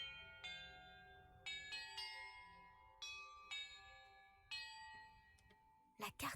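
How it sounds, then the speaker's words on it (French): Bells in a Hogwarts Legacy puzzle ring one after another, five or six clear metallic strikes with long ringing tails spaced unevenly, followed by a brief burst of noise at the end. "quant à l'ordre dans lequel je dois faire sonner les cloches"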